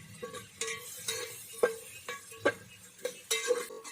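Finely chopped onions sautéing in hot oil for Kolhapuri misal, with a soft sizzle underneath about eight sharp metallic scrapes and taps of a spoon against the pan at a rough, uneven pace.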